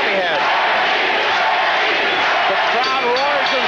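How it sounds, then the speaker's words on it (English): Loud boxing arena crowd roaring steadily as one for fighter Benny the Jet Urquidez in his bout against Yoshihisa Tagami, a dense sustained wall of voices with scattered shouts and whistles throughout. "The crowd roars as one for Benny the Jet."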